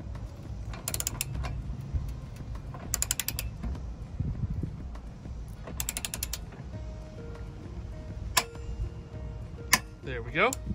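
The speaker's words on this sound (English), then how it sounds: "And you wanna hear that click once you get it really tight." A torque wrench clicks as it tightens trailer hitch bolts on a 2017 Nissan Pathfinder, with bursts of sharp ratcheting clicks recurring over a steady low background and a few metallic taps near the end.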